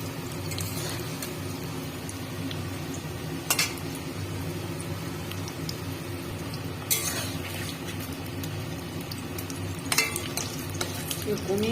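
Steady crackling sizzle of bhetki (barramundi) fish frying in hot oil, close up, with a few sharp utensil scrapes and clinks against the pan.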